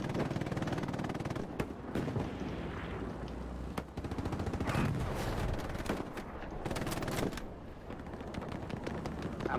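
Rapid gunfire in the game Hell Let Loose at Omaha Beach, with dense bursts of automatic fire and sharp single shots cracking close and loud over a rumbling battlefield backdrop, no speech.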